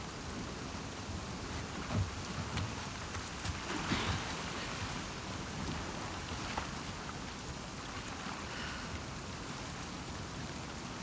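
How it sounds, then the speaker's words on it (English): Steady rain pours across a stormy outdoor scene in The Last of Us Part II, a continuous hiss with a few soft low rumbles of thunder rolling in the distance and no voices. "Let's get out of the rain."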